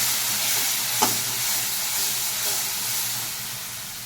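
Spices with salt, turmeric and chili powder frying in a pan, giving a steady close hiss and sizzle with a faint low hum beneath and one brief scrape of stirring, no talk.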